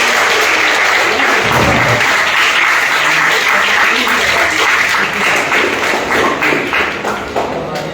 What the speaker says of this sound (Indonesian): Tepuk tangan dulu untuk suara satu.